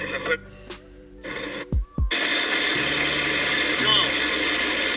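A Shelby GT500 with a suspected clutch or third-gear transmission fault makes a sustained loud whining drone. It follows a few short knocks and a brief voice near the start.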